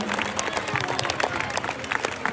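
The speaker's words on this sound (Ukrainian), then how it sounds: "Давайте гучними оплесками привітаємо Тимура." Applause for a young Dynamo team player at a Ukrainian record-setting event, a lively crowd clapping with distinct sharp claps over a busy background at moderate loudness.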